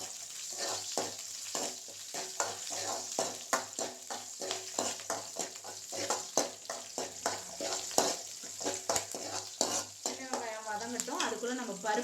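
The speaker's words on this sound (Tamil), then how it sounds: "சின்ன வெங்காயம் எண்ணெயிலேயே நல்லா வதக்கி வச்சுக்கலாம்." Small shallots sauté in oil with a continuous frying crackle and repeated spatula scrapes against the pan in an uneven rhythm, close and fairly quiet, with faint tonal sounds creeping in toward the end.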